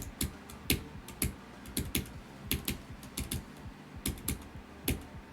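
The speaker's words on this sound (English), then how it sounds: "If you hear a clicking noise, that's just me fidgeting with the other keys on my Sayo device." Keys on a Sayo keypad being clicked idly, with sharp irregular taps coming in quick bursts and short pauses, close and fairly crisp, with no talking.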